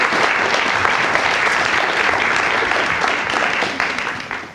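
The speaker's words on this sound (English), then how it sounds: "Give Adriana a round of applause." Dense, steady clapping fills a room as an audience applauds a young woman named Adriana at a county and YMCA after-school program event, tapering slightly in the final moments.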